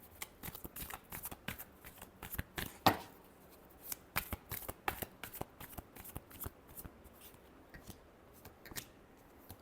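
Tarot cards are shuffled close up in a quick run of crisp, papery riffles and slaps, with one sharper snap partway through and no talking.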